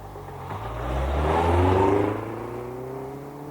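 A car engine revs up and pulls away, swelling to a peak over about two seconds and then easing off as it moves on. The sound is close, with no talk over it.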